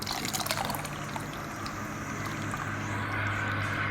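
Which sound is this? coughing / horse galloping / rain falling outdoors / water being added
water being added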